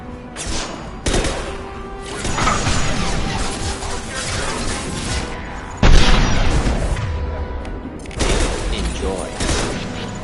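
Heavy booms from exploding unstable crates in the Mass Effect game, several loud blasts with rolling rumble and debris, mixed with gunfire bursts and a voice talking between them.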